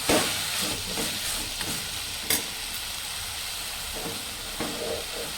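Tomatoes sauté in a pan, a steady loud sizzle and hiss with a few sharp clicks of stirring, heard alone without talk.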